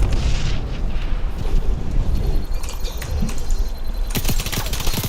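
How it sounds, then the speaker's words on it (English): A frag grenade explodes in the video game XDefiant: loud, booming blasts with heavy rumble fill the clip, followed by a burst of sharp cracking reports near the end. "Throwing frag."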